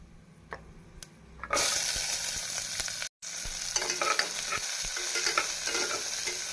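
Chopped onions dropped into hot oil in a pressure cooker: a sudden loud burst of sizzling that keeps crackling steadily, with a brief cut in the middle and scattered stirring clicks.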